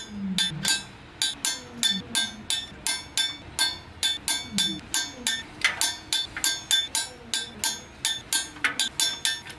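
A torque wrench tightens the flywheel bolts to 75 foot-pounds during an F250 transmission swap, giving close, rapid ratcheting clicks in repeated short bursts, with pauses as the tool is reset.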